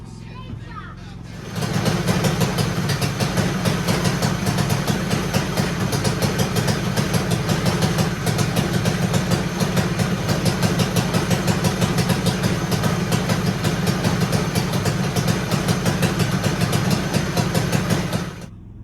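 A small racing engine, likely a kart motor, is cranked and catches after a quiet moment, then settles into a loud, steady, buzzing idle close by until it cuts off at the end.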